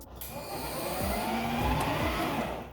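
Power Wheels ride-on toy under repair, run in drive with its motor whirring steadily and both wheels spinning freely, a continuous mid-level electric drone with faint varying whine, no voices.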